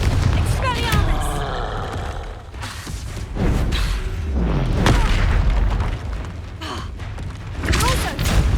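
Repeated spell blasts such as Confringo and Incendio erupt in Hogwarts Legacy combat, a dense run of booming bursts and whooshing impacts layered with shouted incantations and battle effects.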